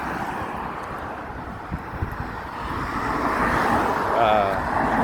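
Steady road traffic rumbles and hisses past, with engine noise swelling and fading and some wind buffeting the microphone.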